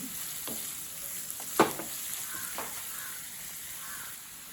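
Leeks sauté in a pan for egg kottu, giving a steady soft sizzle under a constant hiss, with a few scraping stir strokes and one sharper clatter near the middle.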